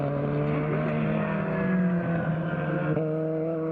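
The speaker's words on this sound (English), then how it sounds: "You think that's dragging, or is that maybe a rough engine note?" A Formula Continental open-wheel race car at the 2013 SCCA Runoffs roars past with a rough, uneven engine note, loud and close with a wavering pitch and a brief dip near the end.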